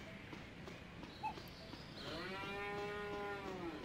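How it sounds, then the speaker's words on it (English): A cow in the video game Rent-A-Hero No. 1 gives a long, drawn-out moo, clear and moderately loud over quiet background ambience, preceded by a brief soft knock. "I just heard a fucking cow."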